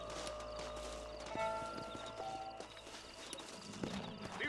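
Horses' hooves clip-clop steadily on the ground in the video game Red Dead Redemption, a moderately close, even walking rhythm heard alone over a low ambient backdrop.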